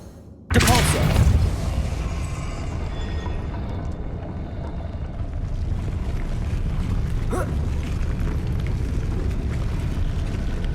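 A mechanism set turning by the Depulso spell in Hogwarts Legacy starts with a sudden loud rumbling boom, then settles into a sustained heavy grinding, rolling drone that stays loud to the end.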